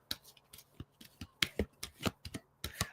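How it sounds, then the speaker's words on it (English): Oracle cards being shuffled rapidly by hand, a run of crisp, uneven riffling and flicking bursts heard up close, with no talking. "I'm shuffling like crazy, like my best shuffle that I know how."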